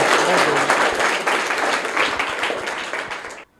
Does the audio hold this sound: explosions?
no